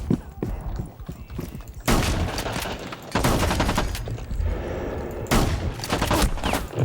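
Gunfire in the tactical shooter Rainbow Six Siege: loud bursts of rapid automatic fire and sharp shots in several clusters, close and heavy, with brief talk between them.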